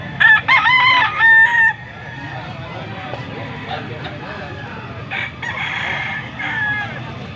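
An 11-month-old lemon sweater gamefowl stag crows once, loud and close, near the start, then the sound falls to softer background clucks and murmuring voices around it.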